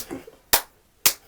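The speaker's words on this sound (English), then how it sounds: "Let's get a three clap." Podcast hosts clap in unison, giving two sharp, loud, close claps about half a second apart after a soft voice at the start.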